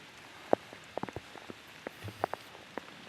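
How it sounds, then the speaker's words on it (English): Rain falls over a wooded scenic overlook during a landscape photography outing, heard as sparse, separate drops ticking on a nearby surface over a soft, steady hiss, with no voices. "This rain's really makes it tough to shoot in."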